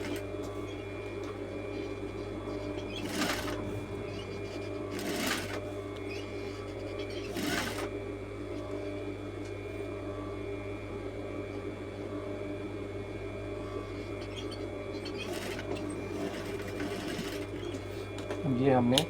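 A sewing machine runs steadily, stitching collar pieces onto a coat, with a few sharp clicks or bumps along the way and speech faintly in the background.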